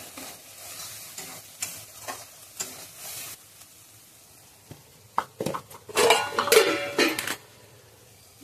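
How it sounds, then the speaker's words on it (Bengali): Spices fry in a pan at home, with scattered stirring scrapes and clinks, then a louder burst of sizzling and utensil clatter near the end. "মশলাটা একটু ভেজে নিচ্ছি।"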